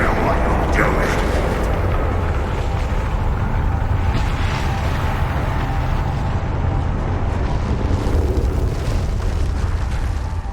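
Bombarda spell explosion in Hogwarts Legacy on PS5, a heavy, rumbling blast that sustains as a loud, continuous roar of debris and effects for several seconds.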